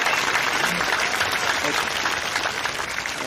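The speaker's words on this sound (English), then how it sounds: "Big round of applause." An audience at a political campaign event breaks into a big round of steady, dense applause that carries on loudly throughout, with a voice talking over the clapping.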